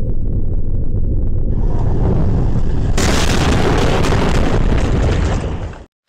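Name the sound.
rumbling followed by an explosion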